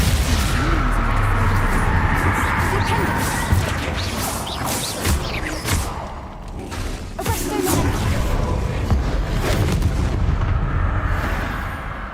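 Spell blasts fired in the Hogwarts Legacy video game: a loud, dense run of repeated crashing bursts and booms that keeps going with only short dips, with no gaps of quiet between the hits.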